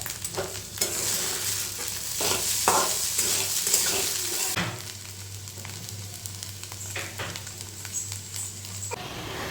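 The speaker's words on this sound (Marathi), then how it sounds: "इथे मी खिचडी बनवण्यासाठी आता शेंगदाणे भाजून घेते" Peanuts roast in a pan for sabudana khichdi with frequent scraping stirs and a dry, crackling sizzle, close and fairly loud, pausing briefly midway.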